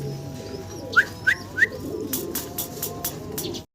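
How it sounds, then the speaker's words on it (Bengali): A pair of satin pigeons coo close by, three short soft calls in quick succession followed by a run of sharp clicks and flutters against a low room hum. "চমৎকার এক জোড়া শার্টিন কবুতর দেখাচ্ছি।"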